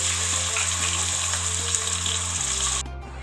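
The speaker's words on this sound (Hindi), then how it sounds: "कीमे का कलर चेंज होने तक मैं इसको भून लूँगी" Minced keema browns in a pan with sautéed onions, giving a continuous close sizzle with faint scraping stirs, cut off abruptly near the end into quiet; no one speaks.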